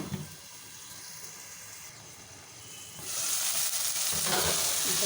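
Tomatoes with salt cooking in a pan make a steady close sizzle and hiss that swells louder and brighter partway through, with no voices.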